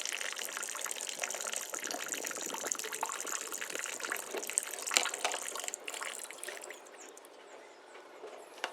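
Water runs steadily from a tap while chillies and chips are rinsed under it, a continuous close splashing gush that eases slightly toward the end.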